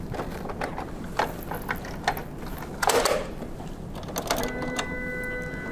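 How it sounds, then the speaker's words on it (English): A card printer's lid is shut and latched, giving a run of small mechanical clicks and ratchet-like snaps, one louder clunk near the middle, then a faint whirring hum toward the end, close up with no talking. "Finally, we'll reload the cardstock and close and lock the printer."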